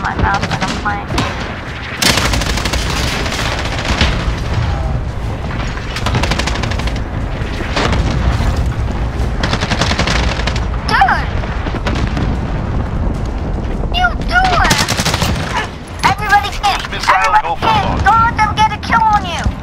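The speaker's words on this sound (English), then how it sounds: "enemy cluster strike incoming. Take cover." Modern Warfare game combat on PC with cluster strike explosions, loud continuous rapid gunfire and booming blasts filling the whole stretch, while a voice talks over the battle.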